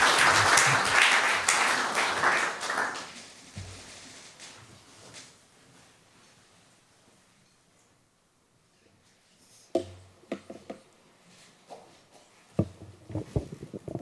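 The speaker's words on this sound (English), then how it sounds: "please give a warm applause of welcome" Audience applause welcoming a guest speaker at a film lecture, loud and sustained clapping from a crowd that fades over several seconds, followed by scattered handling noises and shuffles.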